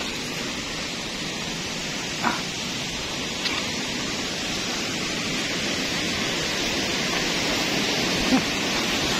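A murky river flows with a steady, broad rushing wash that holds level throughout, broken by a couple of faint clicks or footsteps near the bank.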